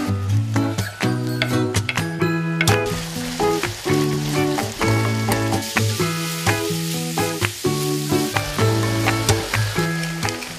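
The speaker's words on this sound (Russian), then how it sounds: "Как только мясо слегка подрумянилось, добавляем репчатый лук, обжариваем вместе и не забываем посолить." Meat and chopped onion fry in hot oil for a Bulgarian guvech, a constant close crackling sizzle that runs throughout beneath a melodic music track.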